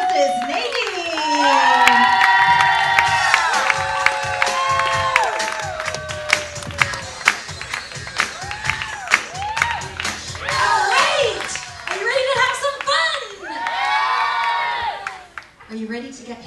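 A theatre audience cheers, whoops and applauds as a comedy hypnotist, billed as the Queen of Hypnosis, walks onto the stage. The crowd noise is loud and sustained, with sharp claps and high shouts rising and falling throughout.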